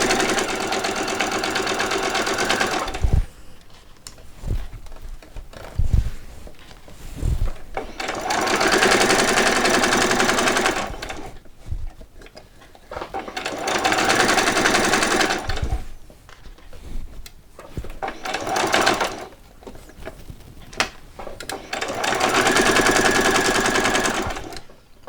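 A sewing machine runs a back stitch on Christmas pajamas in several loud, steady bursts, separated by short pauses filled with clicks and handling noises.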